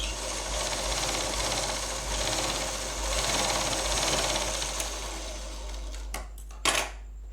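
A sewing machine runs steadily through a blouse sleeve lining, a fast even mechanical whir close by, stopping near the end with a few clicks and knocks.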